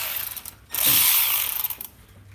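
A ratchet wrench undoes engine bolts on a 1976 Republic truck, with a short burst of rapid clicking between quieter pauses, close by and with no talking.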